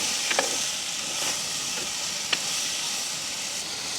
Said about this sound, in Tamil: நல்ல வடிவாக பிரட்டி விடுவோம்